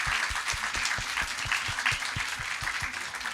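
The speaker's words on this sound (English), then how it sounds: "Let's give a round of applause for them." An audience at a discussion festival claps together, dense steady applause filling the room, moderately loud throughout.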